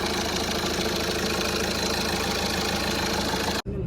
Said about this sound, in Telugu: so at the end engine sound ఏందా